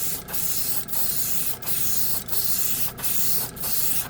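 A Grex airbrush with a 0.3 nozzle sprays acrylic paint in a series of about six hissing bursts, each lasting around half a second, separated by brief pauses.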